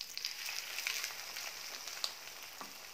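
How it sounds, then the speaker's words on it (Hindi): Egg paratha frying in ghee on a hot pan, a steady close sizzle with small crackling pops running throughout, no talking. "ये देखिए घी लगाने के बाद अच्छे से पराठे को फ्राई कर लें"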